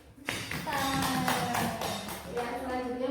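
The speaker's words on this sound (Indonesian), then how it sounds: "Tepuk tangan kembali." Classroom applause during a teaching practice lesson, dense steady clapping from students that starts abruptly and holds at an even level, with some voices mixed in.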